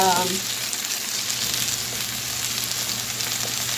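Asparagus sautéing in a pan on low heat, giving a steady close sizzling hiss that stays even and continuous throughout, with no talk.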